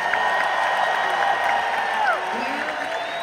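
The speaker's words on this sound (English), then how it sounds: "I would like you to give a round of applause, please, for the daughters of John and Marsha Z." A crowd at a hard rock concert, a tribute show for Jonny and Marsha Zazula at Hard Rock Live Hollywood, Florida, applauds and cheers in a steady, dense wash, with faint voices and whoops rising through it.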